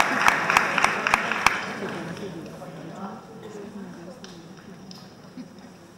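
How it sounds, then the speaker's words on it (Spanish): Audience applause at a Christmas concert, steady clapping of a crowd that slowly fades, with a few sharp percussive hits at the start. "pido un fuerte aplauso"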